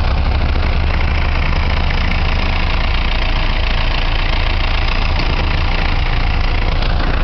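A Rastrojero pickup truck engine idles steadily at close range on a cold day in Luján, a constant low rumble with an even mechanical drone running throughout and no talking.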